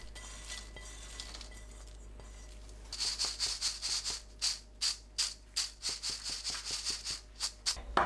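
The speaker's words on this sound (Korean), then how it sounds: "체에 옮겨 가루를 털어냅니다." Stir-fried medium anchovies are shaken in a metal sieve to knock off their powder, producing a quick series of rhythmic rattling shakes that start after a quiet stretch.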